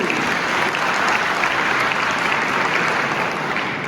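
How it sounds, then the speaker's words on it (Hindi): Steady, dense applause from a college seminar audience, loud and continuous throughout with no break and no speech over it. "एक बार जोरदार ताली होनी चाहिए सब लोगों के लिए।"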